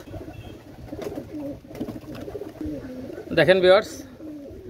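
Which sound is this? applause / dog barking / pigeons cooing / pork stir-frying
pigeons cooing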